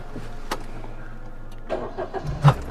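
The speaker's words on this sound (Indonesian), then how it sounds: "Coba hidupin lagi mesin." A car engine cranks and turns over at a distance, with a few soft clicks before it catches and rises into a short idle; no talk.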